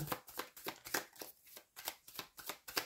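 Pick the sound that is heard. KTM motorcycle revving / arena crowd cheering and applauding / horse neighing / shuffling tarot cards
shuffling tarot cards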